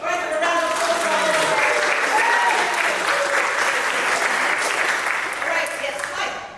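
A theater audience applauds a stage volunteer, producing loud, sustained, dense clapping that swells and holds for several seconds before tapering off, with voices calling out at the start.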